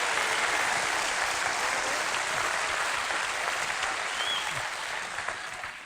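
A large comedy-show audience applauds steadily in a dense, loud wash of clapping that holds for the whole stretch and fades slightly toward the end.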